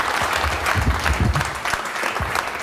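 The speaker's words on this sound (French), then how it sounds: "on peut applaudir quand même" Audience at a restaurant-industry conference breaks into close, lively applause, many hands clapping densely with a few louder individual claps, continuing throughout.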